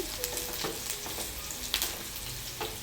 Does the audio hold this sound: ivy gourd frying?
yes